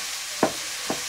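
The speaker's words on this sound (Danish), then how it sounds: "Lad smøret smelte i en gryde og svits græskar, gulerod, løg og chili i cirka 2 minutter." Pumpkin, carrot, onion and chili sauté in melted butter in a pot, a soft steady sizzle broken by two quick scrapes of stirring, close and quiet with no talk.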